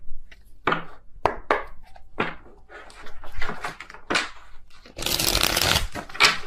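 Tarot card deck shuffled by hand, a run of quick papery riffles and slaps in uneven bursts, ending in a longer dense shuffle, close and clear with no voice.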